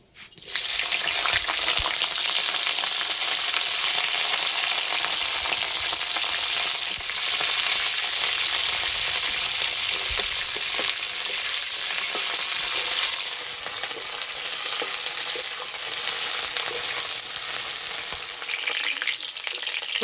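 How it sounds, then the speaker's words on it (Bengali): Cauliflower pieces frying in hot oil give off a loud, steady, dense sizzle with crackling and occasional spatter that stays close and continuous the whole time, with no talking. "এবার ফুলকপি ভেজে নেব।"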